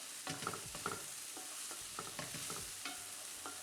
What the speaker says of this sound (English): So we're just going to let that slow cook with those potatoes in there and just let those just sweat off.